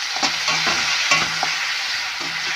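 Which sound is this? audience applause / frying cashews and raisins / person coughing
frying cashews and raisins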